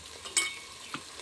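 A spoon stirs jackfruit curry seasoned with turmeric and salt as a ground spice mix is added to the pan. One soft scrape-and-sizzle burst is followed by a fainter one, quiet and brief.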